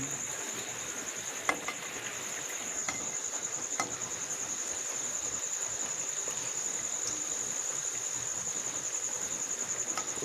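Beguni, battered eggplant fritters, frying in hot oil, with a steady sizzle through the whole stretch and a constant high insect-like whine over it.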